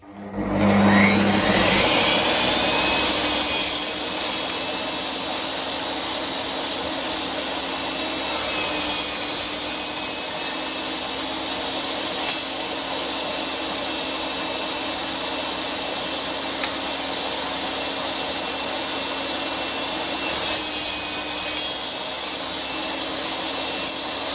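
Metabo TS 254 M 1500W table saw running steadily through wood, a loud sustained whine and rasp with a few brief surges, heard alone without talk.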